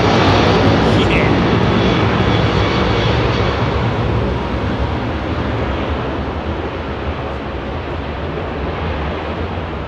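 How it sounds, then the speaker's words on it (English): Air India Boeing Dreamliner jet engines roaring steadily at Heathrow in fog, a loud, broad, sustained rumble that holds nearly constant and eases slightly toward the end, with faint voices underneath. "Dreamliner's moving. Another Air India Dreamliner."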